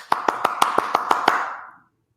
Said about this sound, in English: or we applaud